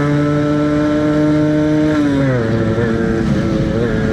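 A Suzuki Shogun two-stroke motorcycle engine revs hard and close, a buzzing high-pitched whine held steady, then dipping and wavering as the throttle is eased and reopened.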